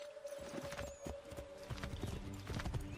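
Horse hooves clip-clop in a steady trotting rhythm in the video game Assassin's Creed III, with an occasional faint whinny over low game ambience, moderately close.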